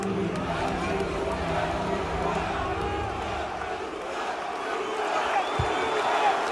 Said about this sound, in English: Let's watch that again. Listen to the crowd.